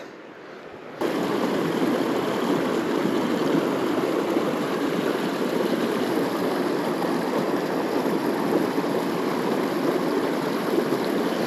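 A mountain creek flows steadily after a quieter first second, its water rushing and burbling in a constant broadband wash, close and fairly loud, with no one talking.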